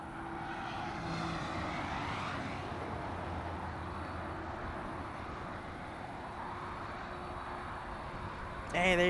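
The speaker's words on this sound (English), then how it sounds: "Aeromexico taxiing, heading to the north runways. This one heading to Mexico City, flight 645, a 737 MAX 8." An Aeromexico Boeing 737 MAX 8 taxis toward the north runways at LAX, its jet engines a steady, moderately distant rumble and whine that holds throughout, with a sharper noise at the very end.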